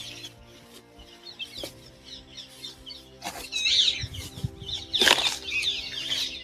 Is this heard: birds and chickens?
yes